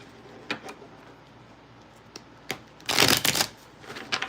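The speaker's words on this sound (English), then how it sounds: "Let's cut the cards because we've been shuffling." A deck of playing cards being shuffled, with a few soft riffles early on and then a loud, close burst of riffling near the end, followed by lighter card flicks.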